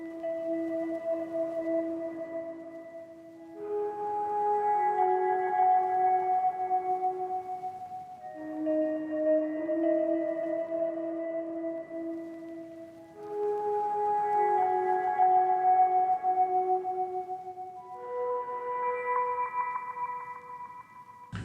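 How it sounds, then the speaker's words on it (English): Soft, sustained synth pad chords from the Omnisphere preset Distant Memories in a lofi beat, each chord swelling and fading in slow succession, quiet and alone without talking. "So the pad is from Omnisphere. I think it's called Distant Memories"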